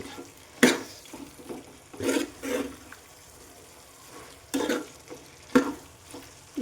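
Gongura chicken curry being mixed in a pan: quiet, intermittent wet stirring and scraping strokes, about six separate bursts over a soft bubbling background.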